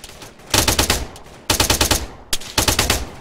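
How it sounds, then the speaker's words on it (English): Rapid automatic gunfire from the military shooter ArmA 3, heard in three separate loud bursts of closely spaced shots with short quiet gaps between them. "I'm under fire."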